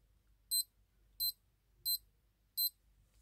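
A fake Casio G-Shock watch gives four short, high electronic beeps as its buttons are pressed, evenly spaced and close, over a quiet low background hum.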